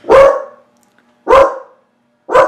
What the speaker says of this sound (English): She is not going to stop barking, I don't think.